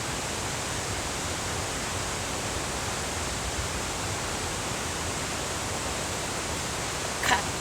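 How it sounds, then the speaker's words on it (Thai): Steady, dense roar of the Dalälven waterfall in Sweden, a broad unbroken wash of falling water that stays constant and close throughout, with a brief small knock near the end. "แล้วนี่ก็พามาชมน้ำตกนะคะ"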